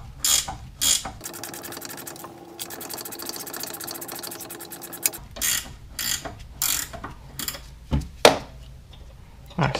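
Close mechanical ratcheting clicks from a ratchet loosening a pulley on a Yard Machines snowblower, rapid bursts of pawl clicks alternating with short pauses and clanks of the tool.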